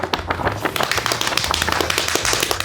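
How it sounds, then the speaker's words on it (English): Rapid drumming or tapping before a Best Picture winner is announced at a casual awards show, a dense rolling patter of quick hits over a low steady hum, lasting under three seconds. "that was the drum roll"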